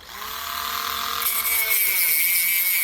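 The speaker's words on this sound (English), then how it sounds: "now I'm going to use my rotary tool to see if I can get that last little bit" A rotary tool spins up and grinds against a steel rose, a steady high whine that rises slightly in pitch and grows louder, continuous and close, with no talking.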